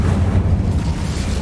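Incendio fire spell cast in the video game Hogwarts Legacy, a loud, close burst of roaring flame with a deep rumbling body that fades slightly toward the end.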